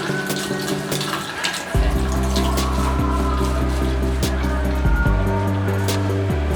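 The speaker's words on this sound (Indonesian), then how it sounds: "Kedua, saya cuci seledri, ya." Celery is washed under a running kitchen tap, a steady, close gush of water that continues throughout over a low background hum.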